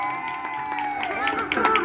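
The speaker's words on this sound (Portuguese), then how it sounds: "Uma salva de palmas!" Guests at a wedding anniversary party clap and cheer briefly while voices talk loudly over the scattered claps.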